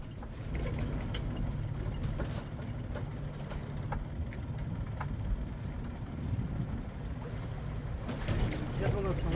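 Sailboat Arista running aground on rocks in shallow water under a metre deep during an Adriatic storm, a steady rushing, thudding roar of hull and water with sharp knocks throughout, wind and sea noise heavy, faint voices underneath.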